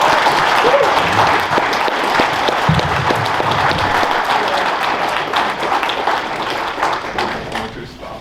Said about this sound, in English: How about another round of applause for our guest speaker, Eric Curry